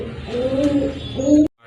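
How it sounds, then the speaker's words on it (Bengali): A pair of pigeons, a Jharna Satin male and a Rajgolla female, gives two close, clear rolling coos, the second cut off abruptly. "খুবই কিউট এক জোড়া কবুতর। নটটা হচ্ছে ঝর্ণা শাটিন, মাদিটা হচ্ছে আপনার রাজগোল্লা।"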